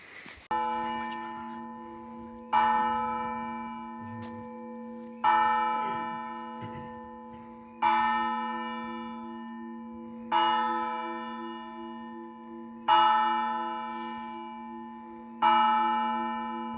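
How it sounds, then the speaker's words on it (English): A monastery church bell of the Russian Orthodox Church at Kholodny Yar rings for the evening service, seven loud, resonant strikes spaced about two and a half seconds apart, each humming long before decaying into the next. "The rings of bell, it's something like alert of start evening praying, evening service."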